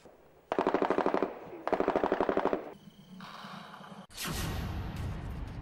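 Gunfire on the Line of Control in Poonch, with two rapid bursts of automatic weapon fire followed by a heavier roaring blast and sustained rumble, loud and close.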